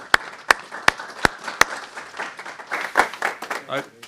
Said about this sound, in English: I just want to take a minute and just, applaud John, and the job he's done for a lot of years.